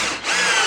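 A power drill drives a screw into a pine 2x4, a loud, brief high whine that dips for a moment and then holds steady.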